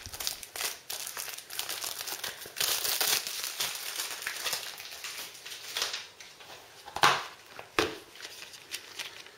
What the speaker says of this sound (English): So if I just take another set of cellophane off